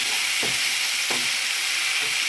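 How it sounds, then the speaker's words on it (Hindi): Ginger garlic paste frying in a pan makes a constant bright sizzle, with a couple of short scraping stirs, close up and with no voices. "अदरक लहसुन का पेस्ट अच्छी तरह से ये भून दिया है"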